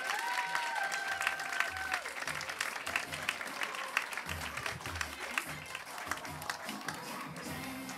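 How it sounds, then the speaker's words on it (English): Comedy club audience at a stand-up night applauding as a comedian is introduced, steady moderate clapping with scattered crowd noise throughout, and brief tonal tones near the start. "start clapping for Liz Torrey"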